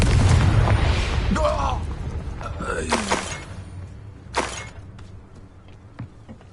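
A Confringo blast spell from the Hogwarts Legacy video game bursts with a loud boom near the start, followed by smaller pops and a sharp crack midway, with game voices and effects layered over the explosion.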